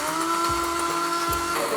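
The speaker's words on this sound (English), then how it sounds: "So have the blender here." An electric blender whirs steadily through cooked dal and vegetables, a loud continuous motor hum with slight dips in pitch as the load shifts, no voices.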